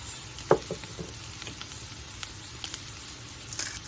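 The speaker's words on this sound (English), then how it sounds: "So now they're sweating, the moisture is coming out of the mushrooms" Mushrooms sweating in a pan, a steady soft sizzle with light crackles and occasional pops, quiet and close, no voices.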